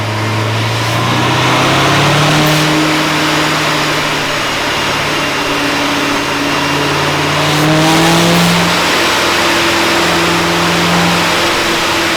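Corvette C7 Z06 with a supercharged LT4 V8 engine revving hard and continuously, its loud engine note rising and falling through repeated pulls with a steady roar and supercharger whine.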